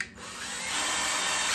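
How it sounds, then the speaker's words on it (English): A power drill pre-drills a hole in wood for a cold frame build, a brief, steady high whine that rises slightly as it bites in, close and continuous. "I'm gonna pre-drill my hole right here."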